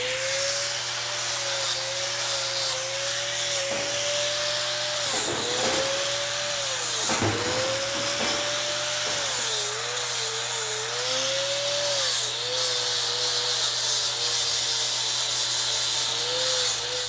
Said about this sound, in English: I use this to kind of grind the inside part of the toe because it can curl like this